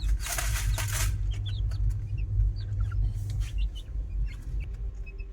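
Chicks peep in short high chirps while chickens cluck nearby in a home yard, scattered over a low, steady background rumble.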